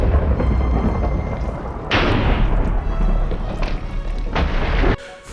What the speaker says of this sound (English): the coolest and scariest thing I can do is summon lightning at myself